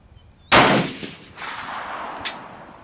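A Steyr rifle fires a single loud, sharp shot at an outdoor shooting range, followed by a lingering echo and a second fainter report-like crack about two seconds later.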